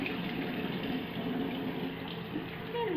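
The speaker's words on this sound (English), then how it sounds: "I'm rinsing." Running water flows steadily from a tap while mascara is rinsed off, a close, continuous gush with slight shifts in tone for a few seconds and no voices over it.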